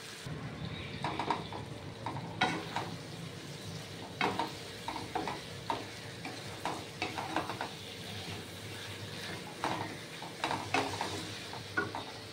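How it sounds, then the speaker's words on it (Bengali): Fish being sautéed in a pan for a Bengali prawn-special meal gives a steady low sizzle, with repeated scraping and stirring clicks of a spatula throughout, close and moderately quiet with no talking. "আস্তে আস্তে আস্তে এখন কষানো হবে মাছটা"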